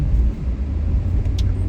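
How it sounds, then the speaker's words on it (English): A car drives along a beach road at Bradenton Beach on Anna Maria Island, giving a steady, close low rumble of engine and tire noise with no voices. "We're driving along the beach, guys"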